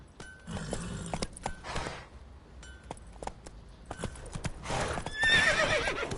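A horse in The Witcher video game gallops with rhythmic clip-clopping hooves in bursts, then lets out a loud whinny near the end.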